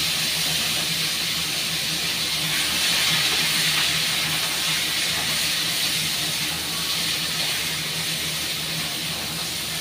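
Mixed chopped vegetables with five-spice tempering fry in a pan for shukto, a constant loud hiss of oil holding steady throughout with no voices.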